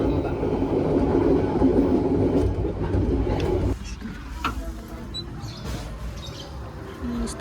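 KRD MCW 302 diesel railcar running on rails in Java at around 70 km/h, a loud rolling rumble that drops suddenly in level midway, leaving quieter clatter and faint rattles.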